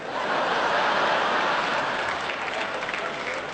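A theater audience at a royal command variety performance in 1986 bursts into loud, sustained applause with some chuckling, a dense wash of clapping that holds steady and then eases slightly.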